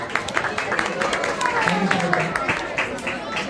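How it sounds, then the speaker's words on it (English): Audience applause at a sponsor appreciation during a Chariots Festival, a steady wash of clapping from a crowd with a voice talking briefly over it. "Can we have a round of applause, please?"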